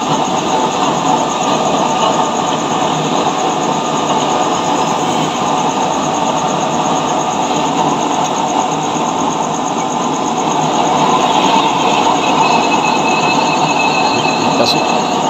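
Two used-oil burner stoves running in LPG mode test fire with a loud, steady roaring hiss that carries on throughout, close and constant with faint background voices.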